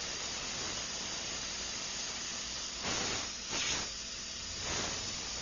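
An airbrush sprays a fine mist of paint, giving a steady soft hiss with a few brief louder bursts of spray partway through.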